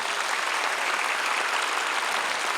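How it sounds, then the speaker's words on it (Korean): Applause from a large church congregation at a peace and reunification prayer assembly, a dense steady clapping sustained throughout without a break and with no talk over it. "다시 한번 순국선열 유족들에게 감사의 박수를 보내야 합니다"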